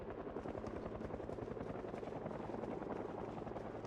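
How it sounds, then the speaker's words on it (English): A helicopter event in the video game Project Zomboid, a continuous rapid rotor thump with a low engine drone, steady and fairly loud throughout and alone, with no speech. "And that is a helicopter event"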